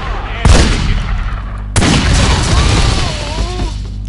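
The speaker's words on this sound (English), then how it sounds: "I mean I got a hit from the explosion itself" Two heavy explosive blasts with gunfire from The Godfather PC video game, the second followed by a sustained rumbling roar and faint tonal game sounds.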